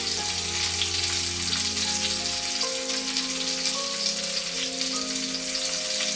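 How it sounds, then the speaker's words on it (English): Chicken cordon bleu, stuffed with cheese, laid skin side down in a hot pan, giving a loud, steady, close sizzle and crackle with no pauses and no voices. "Now I'm going to put them in the pan with the skin side down"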